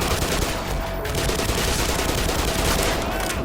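Dense, continuous bursts of rapid gunfire fill the clip, loud and sustained like automatic weapons in the video game Black Mesa, with no breaks.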